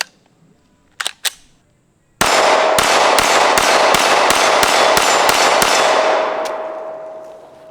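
A Tristar APOC pistol's magazine is pushed out and the slide locks back: two sharp metallic clicks, then a loud, sustained clattering with repeated sharp hits that slowly fades, close and with no talking.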